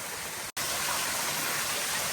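Continuous broadband rush of a waterfall near an old stone-arched lost mine tunnel, loud and steady with one brief dropout near the start.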